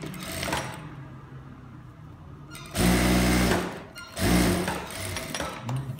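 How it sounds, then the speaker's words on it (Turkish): A sewing machine stitches a zipper straight onto the placket of palazzo trousers, running in two loud, close bursts of rapid needle chatter over a steady background hum. "Fermuarımı direkt patlete dikiyorum arkadaşlar, zorlanmamak için."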